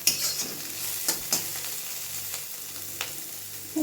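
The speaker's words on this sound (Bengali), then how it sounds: "আর একটু ভাজা ভাজা করি আর এই কড়াইটা কিন্তু লোহার কড়াই" Chicken stir-fries in an iron wok with a steady close sizzle, broken now and then by soft scraping strokes of a spatula, and no speech.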